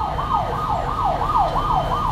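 An ambulance-style wailing siren fitted to a Skygo KPV150 motorcycle sounds continuously, rising and falling in quick regular sweeps, loud and close with no talk over it.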